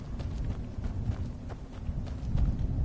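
Horse hooves in the video game Skyrim, a run of soft, muffled thuds in a quick irregular gait over a low rumbling wind-like background, moderately close and steady.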